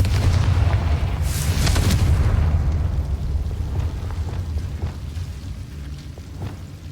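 A Confringo fire spell exploding in the Hogwarts Legacy video game: one heavy booming blast with a deep rumbling body that slowly fades over several seconds, loud and without speech.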